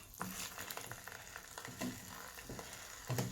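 Courgette rounds laid one at a time into butter in a frying pan, a steady low sizzle running throughout with soft clinks and taps as each slice goes down, rising slightly near the end.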